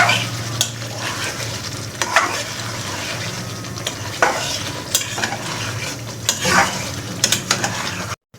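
Bottle gourd stirred into sizzling chicken curry, with steady frying crackle and repeated scrapes and clinks of a spoon against the pot, close and continuous for several seconds.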